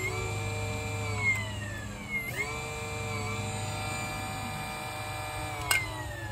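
The electric motor of a minibike, powered by two 18V Ryobi batteries, spins with a steady whine whose pitch dips and recovers under load, heard close with a low hum beneath it.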